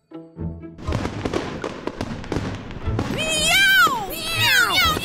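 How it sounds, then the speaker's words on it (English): Fireworks sound effect during toy pretend play, a run of crackling pops and thumps followed by rising whistles, with voices meowing loudly over the bursts. "I can't hear you over all them fireworks."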